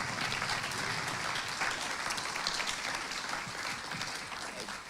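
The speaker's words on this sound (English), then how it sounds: "Give a round of applause" A church congregation applauds at a Sunday service, steady even clapping throughout that softens slightly toward the end, fairly quiet overall.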